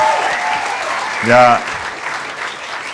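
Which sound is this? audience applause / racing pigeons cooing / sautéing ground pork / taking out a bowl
audience applause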